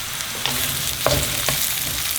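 Mushrooms frying with garlic and jeera seeds in a hot pan, a steady loud sizzle broken by a few sharp stirring clatters.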